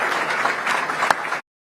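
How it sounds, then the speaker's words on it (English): Brief burst of crowd applause at a political rally, dense and steady clapping that cuts off abruptly. "let me give myself a round of applause"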